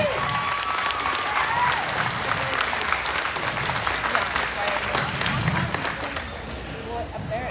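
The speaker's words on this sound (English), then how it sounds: "Let's give them a big round of applause, please." Steady applause from a large crowd at a junior swine showmanship livestock show, dense clapping with a faint murmur of voices, continuing at an even level throughout.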